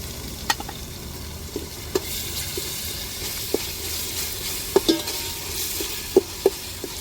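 Ginger garlic paste, freshly ground on a grinding stone, sautés in a pan with a low steady sizzle, broken by scattered sharp clinks and scrapes of a spoon stirring, nearby with no talking.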